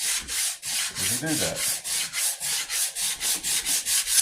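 Close rhythmic hand sanding of a wooden .50 cal Hawken rifle stock along the grain, regular scratchy back-and-forth strokes continuing throughout, with someone briefly speaking over them.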